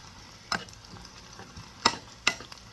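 Onions frying in a pan for an endive dish, a faint steady sizzle broken by three sharp utensil clinks and scrapes, close by and with no talking.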